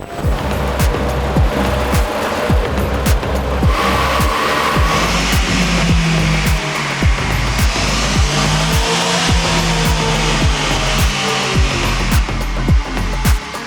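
A loud car engine on a dynamometer drones steadily at high revs, with a dense rhythmic pulsing and mechanical clatter running throughout, close and continuous.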